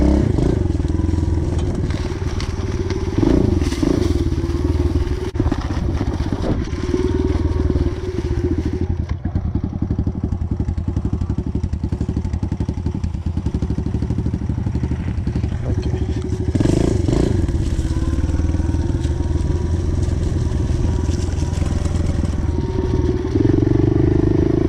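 A pit bike motorcycle rides through water, its loud, close engine droning steadily with splashing and clattering spray throughout, and the pitch shifts as it pushes on.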